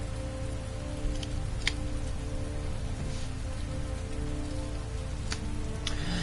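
Constant rain pours in the video game Heavy Rain Remastered, a loud unbroken patter with a few faint sharp ticks scattered through it.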